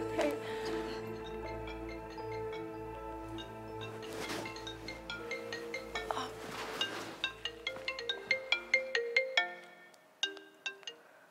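A phone ringtone chimes in a home at night, a melodic electronic tune with bright repeating tones that play steadily and grow louder and more staccato toward the end, with no talk over it.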